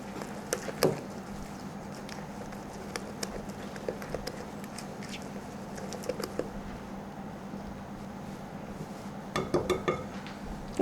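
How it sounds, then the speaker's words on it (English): Wet ingredients for an eggless chocolate oil cake being stirred gently in a bowl, soft scraping and swishing with occasional light clinks of utensil against the bowl, quiet and unhurried. "Just going to gently give it a mix before putting it into the stand mixer"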